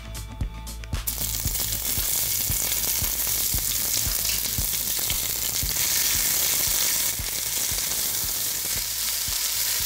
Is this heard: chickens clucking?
no